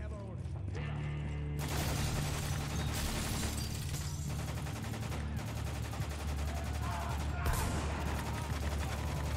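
Heavy gunfire fills Spec Ops: The Line, a steady rattle of shots with booming blasts that fit a shotgun, continuing throughout at close range with some speech mixed in.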